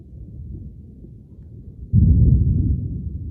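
Thunder rolls in as a deep, heavy rumble that swells suddenly partway through and then slowly fades, after a quieter low rumble.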